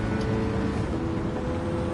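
A cheap Mercedes in Gran Turismo 7 drives with a steady, loud engine drone that holds one pitch. No voices are heard.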